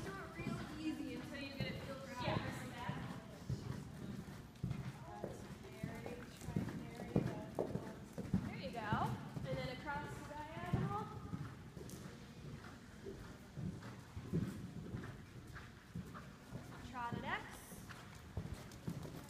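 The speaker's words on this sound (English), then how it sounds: "It's a nice canter." Horse cantering on a 15 meter circle in a riding lesson, with steady rhythmic hoofbeats running throughout under a coach's frequent spoken instructions.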